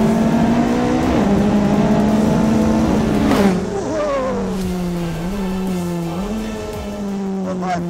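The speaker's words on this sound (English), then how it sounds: "I can't stop accelerating. Into the turn trail, braking, onto the gas, second gear." A BAC Mono sports car's engine revs hard and accelerates under trail braking into a turn, then climbs through second gear; a loud, continuous rising-and-falling whine fills the whole stretch at close range.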